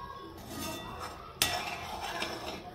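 A spoon stirs ghee in a pot over a low flame, giving soft scraping and light metallic clinks with one sharper knock of spoon on pot partway through, close and steady with no talking.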